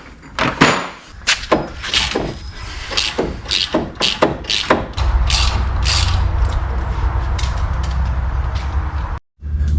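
A tap chases bolt threads on a part for a 79 Series build, with close, uneven clicking and scraping turns that settle into a steady grinding rasp before a brief pause.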